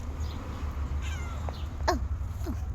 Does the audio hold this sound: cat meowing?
yes